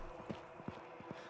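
Horse hooves in a horse race in the video game Rustler: a faint, quick run of clip-clop hoofbeats, about five soft thuds in just over a second.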